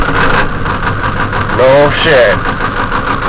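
A Ford 7.3 diesel truck engine idles roughly right after a cold start with no block heater, its steady mid-range churn filling the clip while someone speaks briefly over it.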